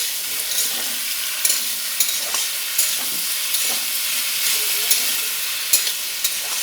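Outenga (elephant apple) sizzles and fries with potatoes in a pan, with steady close sizzling and occasional light stirring clicks and scrapes, no voices.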